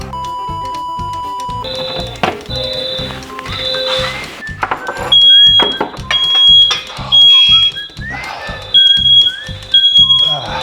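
A hallway smoke detector blares during a fire emergency, loud repeating high electronic tones layered with other alarm-panel beeps and chirps, continuous and close throughout.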